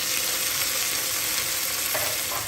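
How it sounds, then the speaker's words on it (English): Onion frying in a pan, a steady broadband sizzle with faint stirring scrapes, close and continuous throughout. "The onion getting fried."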